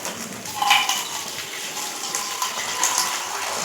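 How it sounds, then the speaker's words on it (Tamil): Water runs from a tap in a soft, steady stream, fairly quiet and close, with small splashes rising and falling. "பைப்பு தண்ணி திறந்து கொஞ்சம் லேசாக"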